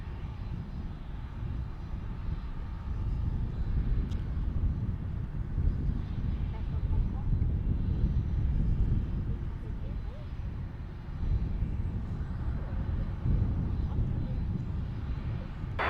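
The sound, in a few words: airliner taking off from runway at SFO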